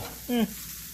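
Sweet potato for al pastor tacos frying in a pan, a soft close sizzle under a brief tonal squeak or clink in the middle of a short moment.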